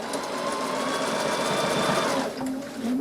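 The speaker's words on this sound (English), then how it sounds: "And then I'm going to go ahead and top stitch." A sewing machine top stitches fabric in a fast, steady mechanical chatter up close, pausing briefly near the end before starting again.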